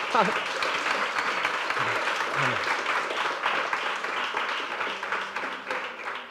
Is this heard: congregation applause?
yes